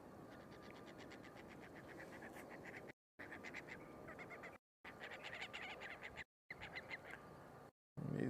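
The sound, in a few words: geese honking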